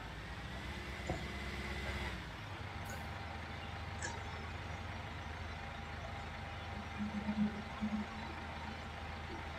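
A Case tractor engine in Farming Simulator 19 roars at a steady, loud drone with a low rumbling hum that never lets up, and brief higher tones rise over it now and then.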